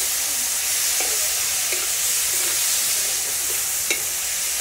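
Tomatoes frying in a pan, a steady broad sizzle and crackle that stays loud and continuous throughout, with a few faint clicks and a soft tap near the end, no voices.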